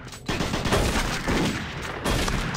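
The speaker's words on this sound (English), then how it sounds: "Stop shooting me!" Gunfire in the Doom 3 video game on Xbox 360: dense, loud bursts of rapid shots and booms fill the whole stretch, with brief dips between volleys and no talk.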